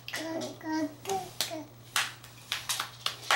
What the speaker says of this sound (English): You want to clap for them?